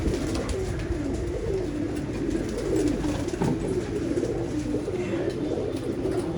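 Pigeons cooing in a loft kept by a champion pigeon fancier in Jamshedpur, Jharkhand, with soft overlapping coos and bird calls running steadily throughout amid low background noise.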